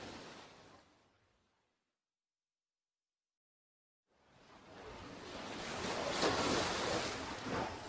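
Ocean waves surge and wash in a drama CD sound effect, fading out to silence and then rising again as a loud, sustained roar of surf.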